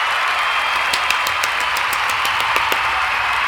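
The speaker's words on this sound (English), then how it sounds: "So let's do a little golf clap." A small group gives a round of steady, dense applause, with many overlapping hand claps kept at an even level throughout.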